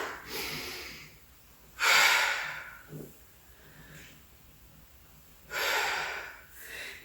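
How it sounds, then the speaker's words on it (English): A person doing squats breathes out hard through the mouth, with two long, loud, close exhales a few seconds apart and a short breathy puff between them in an otherwise quiet room. "Exhale, come back on up."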